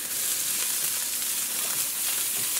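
Chopped carrots and onions fry in a pan for Trini fried rice, giving a continuous close, bright hiss with no distinct stirring strokes.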